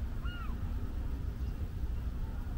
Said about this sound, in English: Can you hear those birds in the background?